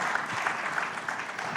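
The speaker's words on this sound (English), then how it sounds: "Ladies and gentlemen, give them a big round of applause." Conference audience at an economic dialogue on cyber resilience breaks into applause, a brief, even burst of many hands clapping at close range, steady throughout with no talk over it.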